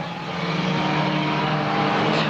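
Race cars roaring around the track at the Rolling Thunder Expo 2018, a loud sustained engine drone building slightly as cars pass, with no talk audible.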